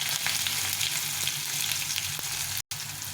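Onions dropped into hot oil with dried red chillies and cumin seeds sizzle loudly and continuously, a close, bright frying hiss with a few faint stirring clicks and a brief cut near the end.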